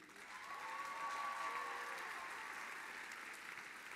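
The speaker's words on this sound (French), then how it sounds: "Donc, j'aimerais qu'on les applaudisse très fort." Warm applause for musicians at a gala, a steady crowd clapping that swells and holds at moderate level, with a faint sustained tone or cheer threading through and no talk over it.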